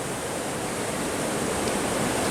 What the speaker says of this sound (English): It's raining a fair bit.